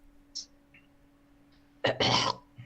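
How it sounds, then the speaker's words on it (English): A commentator at an online chess championship broadcast clears his throat once with a sharp, close, gravelly rasp after a few faint clicks, set against a low steady hum. "I just need to clear my throat once in a while today"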